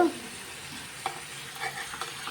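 King fish cutlet mixture cooks in a little oil in a pan, a low steady sizzle with faint scraping stirs and a few soft spatula knocks, close and without voices.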